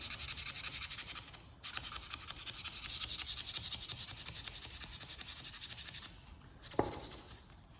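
Sandpaper folded over rasps steadily against wood, worked by hand into a corner, with continuous close scratchy strokes, a brief pause, then more rubbing.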